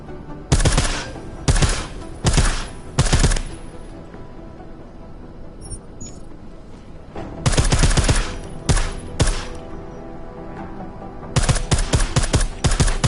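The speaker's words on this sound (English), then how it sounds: "I like how silencers reduce sound, but the trade-off is less stopping power," Silenced gunfire in the video game Deus Ex: Mankind Divided comes in three clusters of rapid, sharp shots, each burst several quick cracks, loud and close, with quieter gaps between.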